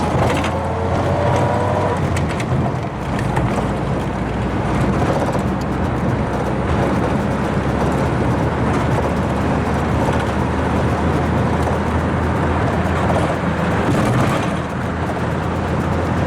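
A car drives across the broken asphalt of an old airport runway at the former Whitney Airport, its steady road rumble and tire roar continuous and loud throughout, with a low engine drone underneath.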